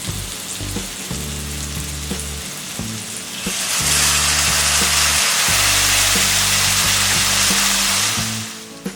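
Fried vegetables sizzle loudly in a pan, and the hiss swells into a strong, steady crackle after vinegar is added, with a few stirring clinks over the top.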